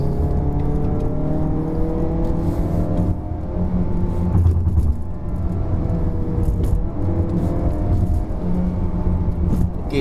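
A 2019 Mazda3 1.5L liftback in sport mode pulls hard up a misty hill road, its engine drone climbing steadily in pitch as gears are held longer, loud, close and continuous with no talking.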